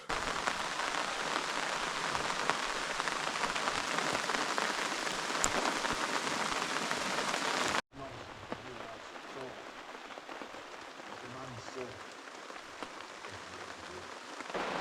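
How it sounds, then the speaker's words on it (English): Steady rain pours down in a loud, even wash in Alaska, then continues slightly softer and closer after an abrupt break. "as you can hear, it's raining pretty good right now"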